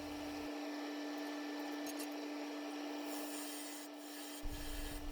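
Maple turns on a wood lathe while a parting tool cuts the mortise and outlines the foot, making a faint, steady whirring scrape over a constant low hum, with no voices.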